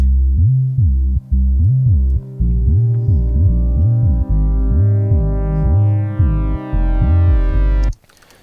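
A buzzy synthesizer line plays a repeating pattern of pitch-sliding notes over a steady low drone, then cuts off abruptly near the end.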